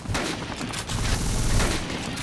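Sustained gunfire aimed at a helicopter's tail rotor in the video game Dead Rising, a dense continuous fusillade of shots running loud throughout with no talking.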